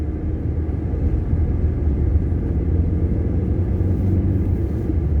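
A car driving on snow shifts down a gear, its engine a steady, loud, low rumble with road noise that continues throughout.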